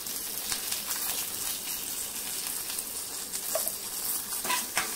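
Curry leaves and a quarter spoon of asafoetida sizzle in hot oil for a Marathi dal tempering, a steady close crackle with faint stirring and no voices.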